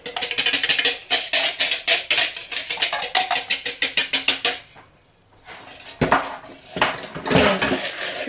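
A spoon stirring sifted flour into red velvet batter in a bowl, loud rapid rhythmic scraping and clinking against the bowl, pausing briefly midway before a few more close scrapes resume.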